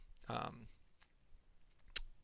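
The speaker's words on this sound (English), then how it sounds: "You can start clicking on some of the various colors." Sharp computer mouse clicks while choosing colors in Photoshop: one click near the start and a louder one near the end, with a brief voice sound between them in an otherwise quiet room.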